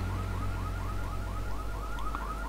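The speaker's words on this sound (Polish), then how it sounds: "Włączył się alarm." Car alarm going off in the video game GTA III, a steady repeating rising whoop cycling about every quarter second, loud and continuous over a low engine hum, with no talking.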